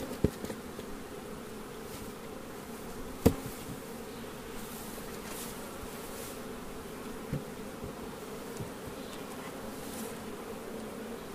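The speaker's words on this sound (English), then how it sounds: "and I'll shake those bees into there." Honey bees shaken from a hive frame into a nucleus box hum in a steady, low buzz, with a few sharp knocks scattered through.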